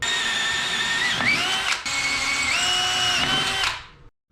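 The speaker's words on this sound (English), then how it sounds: "drill some holes for my rib nuts" A power drill bores 5 mm holes for rivet nuts in a '51 Chevrolet Fleetline custom, its motor whining loudly and steadily with a brief dip midway before stopping near the end.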